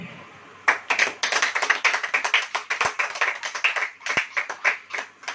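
A church congregation claps hands in quick, uneven bursts, loud and near, with the rhythm rising and falling over several seconds.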